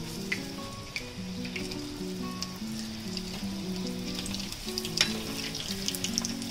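Bondas for vada pav frying in hot oil on a low flame, a continuous close bubbling sizzle with scattered pops and crackles throughout.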